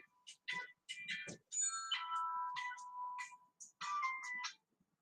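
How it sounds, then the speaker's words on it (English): Mobile phone ringtone playing an electronic melodic tune in bursts of bright chiming notes with short gaps, fairly quiet and alone without talk. "That phone is ringing again."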